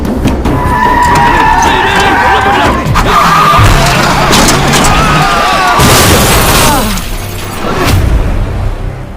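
Car skidding with tire squeal and a crash in an action scene from an Indian film, with a dense, loud mix of screeching, booms and shattering debris running continuously under a music score.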